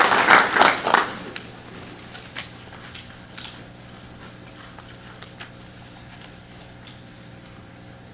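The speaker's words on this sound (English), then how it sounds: "Let's give her another round of applause." Audience applause at a State of the City address, a short burst of clapping in a hall that fades within about a second, followed by quiet room tone with a few scattered ticks.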